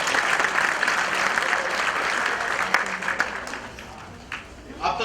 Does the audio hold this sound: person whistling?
no